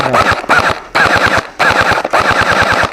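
A QBZ95 gel blaster toy gun fires in full-auto bursts, four loud, close, rapid rattling volleys separated by short gaps.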